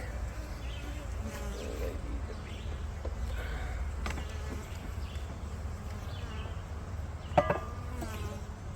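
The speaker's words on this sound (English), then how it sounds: "They're happy bees." Honey bees hum and buzz continuously around an opened hive during an inspection, a dense close drone with individual bees passing near, and a sharp brief knock late on.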